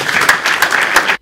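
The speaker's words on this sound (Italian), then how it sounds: "accolta con grandi applausi dai presenti" Audience applause at a ceremony in Lucca for a new tartan track at the CONI sports field, a dense steady burst of many hands clapping at close range that cuts off sharply after about a second.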